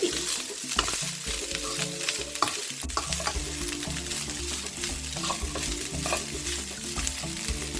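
Fried rice being stirred and mixed in a pan, with steady sizzling and frying under repeated scraping and stirring strokes that keep a busy, continuous rhythm throughout, close and fairly loud, with no talk.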